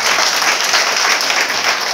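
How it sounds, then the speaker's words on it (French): Loud, close applause from a crowd at a women's training event in Logoualé, Côte d'Ivoire, a dense continuous burst of clapping with no talk over it. "Applaudissements."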